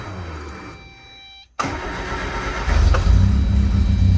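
A 1975 MG Midget engine, not run in a few weeks, cranks briefly, goes quiet, then catches and fires into a close, rough idle that grows louder and deeper as it settles into a running rumble.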